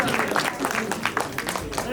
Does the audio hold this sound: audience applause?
yes